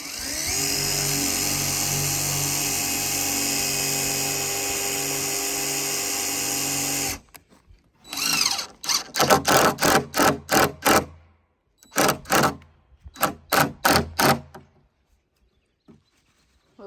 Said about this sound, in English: is putting a few more screws in just to make it a little bit more sturdy